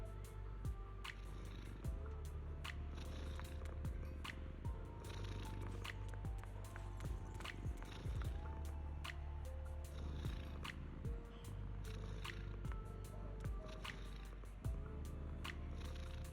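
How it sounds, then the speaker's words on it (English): Cats in the video game Zenless Zone Zero purring steadily, a soft continuous rumble that runs on quietly throughout with faint small clicks and shuffling over it. "let the purring of cats tickle your eardrums"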